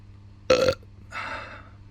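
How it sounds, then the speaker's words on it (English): A short, sharp burp follows a swig of tropical-tasting lager beer, then a breathy exhale trails off in a quiet room. "Nice after burp."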